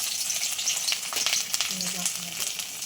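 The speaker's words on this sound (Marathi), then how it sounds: "तेलात पहिले लसूण टाकून घ्यायचं आहे" Garlic sizzles in hot oil while being fried for a crispy hotel-style soya chilli, a steady bright crackle with a few sharper spits and stirring scrapes throughout.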